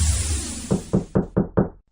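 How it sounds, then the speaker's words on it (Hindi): Five sharp knocks land on a door in quick, even succession after a brief burst of noise, each one loud, close and hollow, followed by silence. "तभी किसी ने मेरा द्वार खटखटाया"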